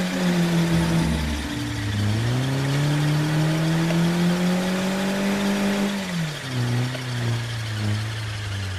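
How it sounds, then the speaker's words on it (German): A car in the zombie video game State of Decay 2 gives a continuous whirring, whining engine tone with a high squeal, sliding up and down in pitch as it speeds and slows, loud and steady throughout. "Hörst du mein Auto auch, wie das quietscht?"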